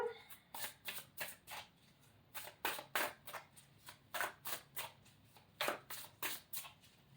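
Tarot cards being laid down one after another in a quick, fairly regular rhythm of crisp snaps and flicks, close up, no talking.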